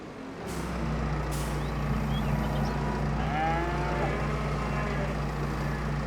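Cows moo repeatedly inside a shed in the Farming Simulator 22 video game, the calls rising over a steady low engine drone and background farm hum.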